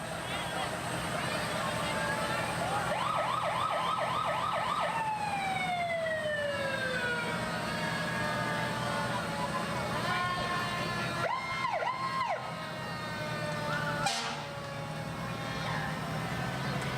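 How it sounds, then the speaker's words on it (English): A vintage volunteer fire engine's siren wails through a Memorial Day parade, rising and falling in long sweeps and yelps over crowd noise and chatter, with short horn-like blasts near the end. "It's a great old vintage fire engine."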